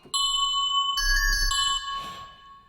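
Synthesized bell tones from a trap beat, bright ringing notes struck in a short sequence with a deep bass thump beneath, close and clean with no voices.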